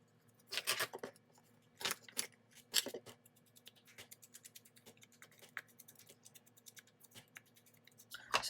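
The edge of a paper card is torn by hand while making a craft journal embellishment, heard as quiet, close, dry ripping and scratching bursts in short irregular strokes with brief pauses between.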